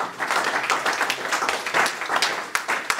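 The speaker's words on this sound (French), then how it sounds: "Acclame pour la gloire du Seigneur." A church congregation at a Sunday service applauds, with dense, steady clapping from many hands filling the room, a few sharper claps standing out near the end.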